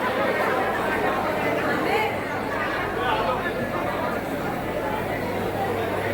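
A large crowd packs a Ganpati darshan pandal at Abhyudaya Nagar, a steady dense babble of many voices close around with no single voice standing out.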